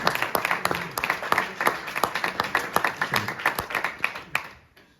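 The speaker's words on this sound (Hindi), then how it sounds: "भरपूर तालियां।" Crowd at a restaurant prize ceremony claps steadily, dense, fairly close applause that carries on for several seconds before fading out at the end.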